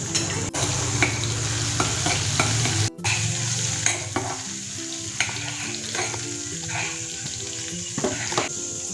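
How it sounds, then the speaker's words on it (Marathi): Chopped green chillies frying in a pan, a continuous bright sizzle with repeated scraping stirs and a brief dip near the middle, close and steady, no speech. "तर बघा मिरची छान फ्राय झालेली आहे"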